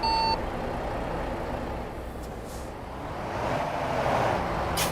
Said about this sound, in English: I think the transmission or something in this truck's making some weird noises